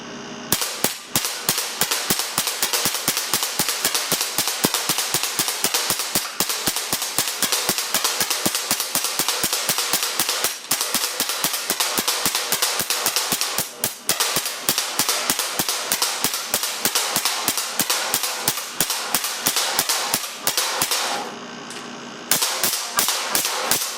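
.177 BB air cannon with a new valve and electronic controls, fed from a high-pressure air tank at about 475 psi, firing semi-auto at a test target: sharp, loud cracks in a rapid, even string lasting the whole stretch, with one short gap near the end.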